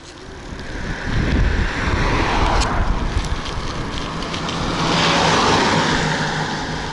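Strong wind buffeting the microphone while riding an electric bicycle, a loud continuous rumbling roar that swells and eases, with no voices.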